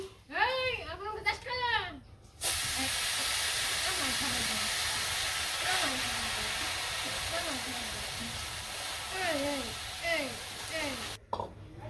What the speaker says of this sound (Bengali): এখন শাকটি ভেজে নিই